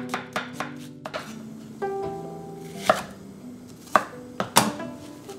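A medium-to-large onion sliced with a knife on a cutting board: a series of sharp, close chopping taps at an uneven pace, with clear gaps between cuts in a quiet kitchen.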